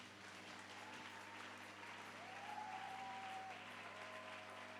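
A church congregation claps in steady applause, a continuous patter of many hands mixed with faint voices and a sustained organ-like tone underneath.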